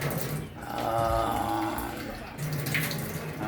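Water pours from a glass into a cooking pot for paksiw fish, a steady splashing stream with a short break midway before it resumes, close and moderately loud.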